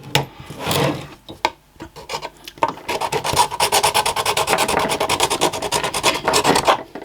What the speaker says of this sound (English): to do is scuff this up because I want better adherence